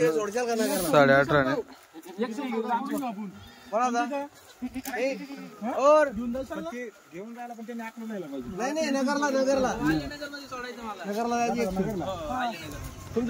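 Goats bleating at a busy livestock market, several animals calling in repeated wavering cries close by, overlapping with lively people talking throughout.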